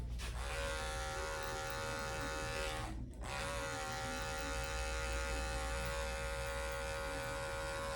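An electric hair trimmer buzzes steadily and close up while a fade haircut is cut, its hum dropping out briefly midway before resuming; no one speaks.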